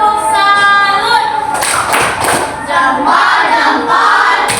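A group claps a salute clap, several sharp rhythmic bursts in the middle set between stretches of loud, tonal group voices, all close and lively.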